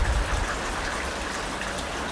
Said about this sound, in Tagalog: Hindi ko alam kung may bagyo o ano eh.